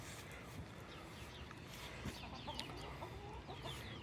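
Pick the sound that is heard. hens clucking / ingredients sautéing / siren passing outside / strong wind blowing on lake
hens clucking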